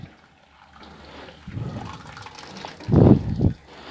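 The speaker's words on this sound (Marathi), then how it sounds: "कुकरमधली डाळ एका चाळणीमध्ये टाकून त्यातलं पाणी काढून घेणार आहे" Water splashes and drains from cooked lentils through a sieve in a couple of quick gushes, the loudest burst near the end, with a soft trickle between.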